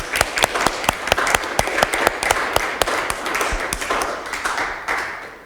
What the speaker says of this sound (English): we could give a round of applause